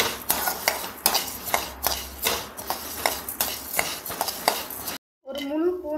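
Coriander seeds and black pepper are dry roasted in a pan and stirred with a spatula, making rapid, rhythmic scraping and rattling strokes close by. A brief silence near the end is followed by a short voice.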